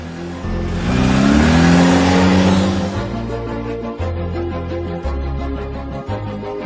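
A car engine revs loudly and up close, rising in a strong surge and then settling into rough, pulsing idle bursts, with no one talking.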